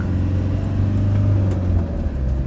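A 2004 Hymer B524 motorhome's 128-horsepower engine drones steadily and loudly as the camper climbs a long uphill stretch, a continuous low rumble with faint whirring and no breaks.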